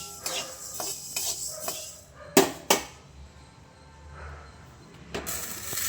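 Roasted horse gram being tipped from a pan onto a plate, giving a few sharp metallic clinks and scrapes with a light rattle of grains, close and fairly quiet, with no talking.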